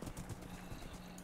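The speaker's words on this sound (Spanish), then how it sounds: "mirad lo que tardamos en llegar a la dungeon en caballo" A horse in Minecraft trots along, its hooves making a fast, steady clip-clop that is loud and close against a dense, noisy game background, with no speech.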